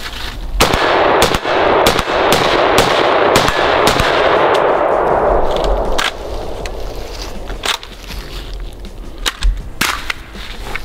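Bullpup rifle emptying the rest of a magazine outdoors, a rapid string of loud, sharp gunshots at an uneven pace for several seconds, then a few sparser shots and quieter handling noise.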